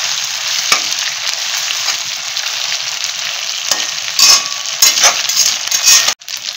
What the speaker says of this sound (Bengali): এবার আমি গ্যাসটা একটু বাড়িয়ে দিলাম, বাড়িয়ে দিয়ে এটা আমি ভেজে নিচ্ছি।